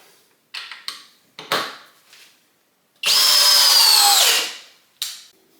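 A Flex compact drill on high speed with a 2.5 amp hour battery drives a 5/16 by 4 inch GRK screw. A few short taps and scrapes come first, then one loud whine for about a second that drops in pitch as it stops.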